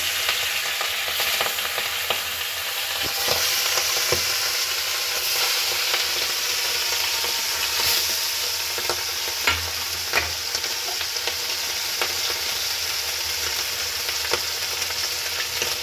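Hilsa fish pieces frying in oil in a pan, a steady loud hiss and sizzle with scattered pops and crackles running throughout, close by and without voices.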